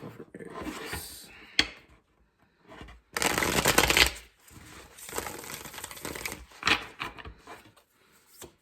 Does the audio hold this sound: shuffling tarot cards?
yes